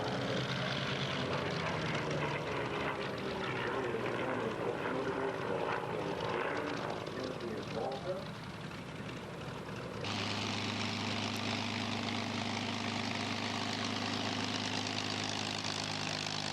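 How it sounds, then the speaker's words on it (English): A World War II P-51 Mustang fighter with a Rolls-Royce Packard engine flying at an airshow: a steady, loud propeller drone that swells as it passes, then shifts into a lower, even engine hum, with no voices. "The Mustang became one of the most famous fighters of World War II. Powered by the Rolls-Royce Packard engine"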